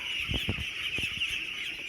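Meat ducks on a duck farm give a few soft, short calls in quick bursts, faint against a constant high background hiss.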